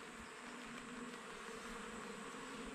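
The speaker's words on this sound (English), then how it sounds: "As you can hear from all of this buzzing and see from all of the frames, they are teeming with bees." Honey bees buzzing around open beehives on a farm in central Portugal on a hot day, a dense continuous drone heard close and steady with no talk.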